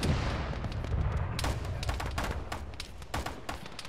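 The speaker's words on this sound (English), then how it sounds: "Heavy machine gun to our north, northeast." Heavy machine gun fire rattles in the video game Arma, steady repeated bursts over a rumbling background, moderately distant and continuous.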